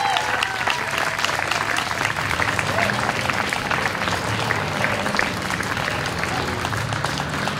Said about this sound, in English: Everyone, please give a big round of applause to Jonathan.